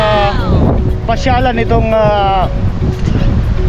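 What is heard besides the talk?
wind blowing in a park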